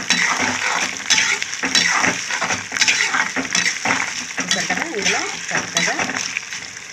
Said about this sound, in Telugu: అలాగే ఇందులో తెల్లుల్లిపాయలు కూడా వేసేసుకున్నాను ఇది కూడా కొద్దిగా ఫ్రై అవుతాయి